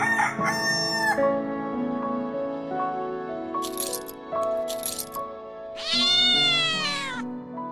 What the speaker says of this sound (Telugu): అబ్బా పిల్లి